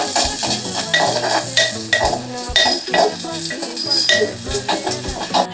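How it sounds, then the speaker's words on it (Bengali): Onions, dried and green chillies and chopped tomato fry in hot mustard oil in a clay pot, sizzling steadily while a utensil stirs and scrapes in repeated, close strokes. "এবার গ্যাসে একটা মাটির হাঁড়ি বসিয়ে তাতে কিছুটা সর্ষের তেল গরম করে শুকনো লঙ্কা কাঁচা লঙ্কা কিছুটা কুচনো পেঁয়াজ টমেটো কুচি দিয়ে মিনিট পাঁচে ভেজে নেব"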